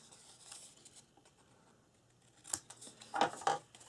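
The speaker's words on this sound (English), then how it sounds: "I'm going to trim mine off, so I'm going to miter cut from the fold line in" Scissors miter-cut the corner of folded paper at the fold line for a swaddle baby album, a couple of quiet snips and a short crisp cut near the end, close and alone.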